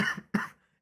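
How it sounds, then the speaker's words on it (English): Two quick, harsh coughs from a man with something caught in his throat, close and loud, separated by a brief pause and then falling silent. "Excuse the coughing"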